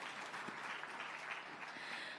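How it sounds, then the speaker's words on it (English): Steady applause from a business conference audience, a dense wash of many hands clapping at a moderate distance, continuous and even throughout. "I'm sure they deserve a bigger round of applause."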